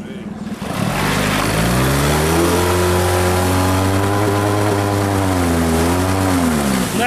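An outboard motor over-revving on an Allaska 460 PVC inflatable boat out on the water, a loud close drone that rises quickly to a high, strained pitch and holds there with small wavering changes.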